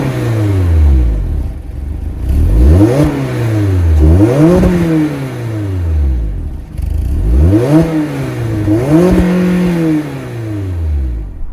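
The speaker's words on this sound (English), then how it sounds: "that was the sound of the 2-liter naturally aspirated 4-cylinder sold by Mazda for the" 2024 Mazda MX-5 Miata's naturally aspirated 2-liter four-cylinder revved from idle in four sharp blips, in two pairs, each climbing and falling back, loud and close with no talk.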